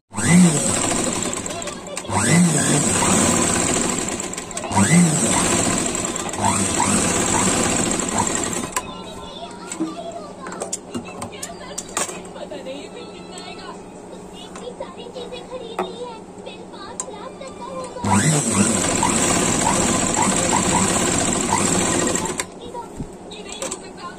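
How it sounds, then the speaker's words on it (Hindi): A sewing machine stitches a blouse in two long, loud, steady runs, each lasting several seconds, with a quieter stretch of handling noises between them and voices heard in the background. "मैं सिल लेती हूँ ब्लाउज़"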